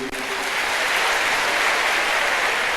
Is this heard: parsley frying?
no